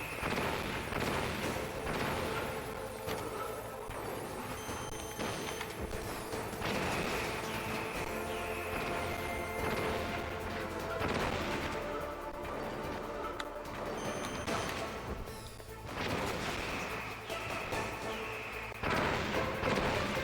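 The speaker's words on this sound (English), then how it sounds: "And now it's gonna be stingers. Oh, rockets." Missiles and rockets explode in Metal Gear Solid as a dense, continuous barrage of loud blasts and crashing impacts, layered with metallic game effects and rumbling that swell and dip across the clip.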